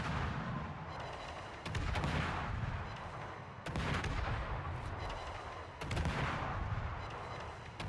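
Heavy naval guns of the warship Öland fire shells in a naval video game, three booming salvos spaced about two seconds apart, each with a rumbling decay, no voices.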